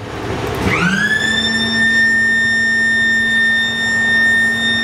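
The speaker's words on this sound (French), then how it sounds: "les tapis vont démarrer les uns à la suite des autres" Conveyor belts in an industrial plant start up one after another: a loud motor whine quickly rises in pitch, then settles into a steady, sustained hum that fills the space.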